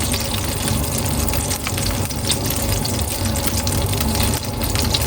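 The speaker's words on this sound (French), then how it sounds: "Une fois qu'on a mis le jus de citron pressé, comme ceci" Freshly squeezed lemon juice poured into a pan while cooking chicken piccata, a steady, continuous liquid splashing and gushing sound, close and fairly loud, with no talk.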